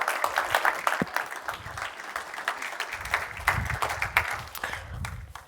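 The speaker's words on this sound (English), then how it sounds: "Please, round of applause for him." An audience at an Africa business forum breakout session applauds to welcome a speaker, a steady wash of many hands clapping in a room, fairly loud and continuous for several seconds, with faint low murmur underneath.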